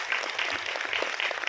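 An audience at a dance recital, a Salangai Pooja Bharatanatyam debut, claps in steady, dense applause, close and even for a short stretch with no voices.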